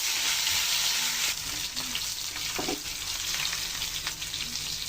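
Whole garam masala fries in hot oil, a steady loud sizzle and crackle throughout with small pops and a brief stir near the middle, no voices.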